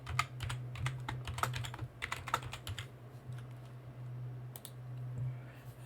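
A password is typed on a computer keyboard in a quick run of close keystrokes, then a short pause before a few final taps over a low steady hum.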